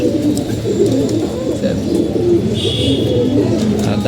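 Soft, low coos from a male pigeon repeat steadily at close range over a constant background hum.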